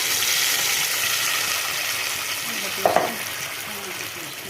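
Tomato paste and onion paste sizzling in a frying paneer curry with cloves and cardamom, a steady close crackle with a brief stirring clatter near the end.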